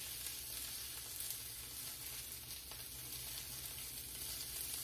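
Asparagus sautés in a pan over medium-high heat, giving a steady, low, even sizzle that holds at a soft level throughout with no voices.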